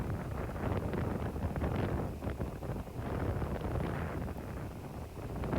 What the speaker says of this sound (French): Vous pouvez voir le vent, à quel point il souffle sur le drapeau.